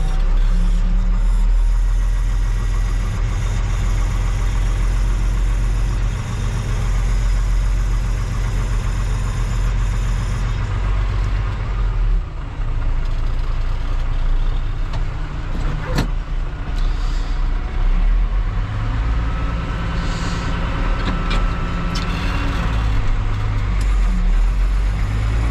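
A farm tractor engine runs steadily while spreading liquid fertilizer in a field, a continuous low droning rumble that stays loud throughout with a few faint clicks and knocks.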